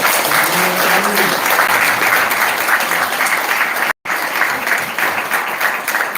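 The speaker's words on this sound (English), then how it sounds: "Can we please have a round of applause?" Audience applause at a spiritual retreat session, a steady dense wash of clapping from a crowd, loud and continuous with a brief cut partway through, a few faint voices mixed in.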